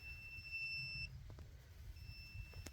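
A multimeter set to continuity test gives two thin, high electronic beeps, one about a second long and then another after a short pause, faint against quiet handling noise.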